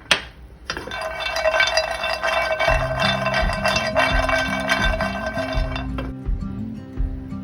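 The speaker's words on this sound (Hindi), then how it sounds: "अब डालेंगे इसमें काजू" Cashews clatter into a pan while dry fruits are being warmed for homemade chocolate, a loud bright rattle of nuts on metal followed by a steady scraping and clinking, with no talking.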